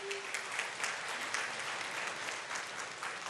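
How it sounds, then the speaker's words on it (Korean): An audience at a Buddhist memorial ceremony claps for a visiting choir, a brief, fairly faint wash of applause heard from a distance. "박수 한번 부탁드리겠습니다"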